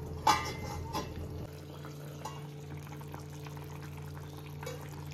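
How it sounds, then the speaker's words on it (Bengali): Katla fish curry with beans, potato and aubergine bubbles in a pot with a low, steady simmer, opened by a few pouring splashes and utensil knocks. "মিনিট 5-7 ফুটুক, আমি এটা তখন ঢাকা দিয়ে দিচ্ছি।"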